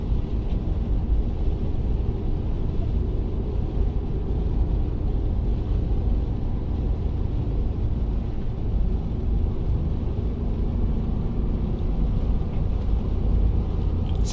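A manual-transmission Toyota 4Runner on Bridgestone Blizzak DM-V2 tires climbs a snowy mountain pass in a snowstorm, giving a steady, loud, low engine and road rumble that holds evenly throughout with no talk.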